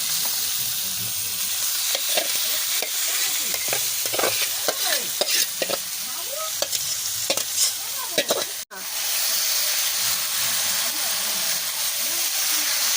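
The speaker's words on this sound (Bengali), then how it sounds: "চিকেনটাকে কত সুন্দরভাবে কষানো হচ্ছে" Chicken pieces sautéed with turmeric and chilli for murg musallam, a loud continuous sizzle with repeated scraping stirring strokes, briefly cutting out near the end before the frying hiss resumes.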